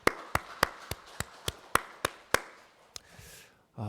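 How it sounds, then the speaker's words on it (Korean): A church congregation's sharp hand claps land one by one in an even, steady rhythm, about nine in a row, fairly faint, followed by a soft rush of noise. "우리 하나님께 감사의 박수."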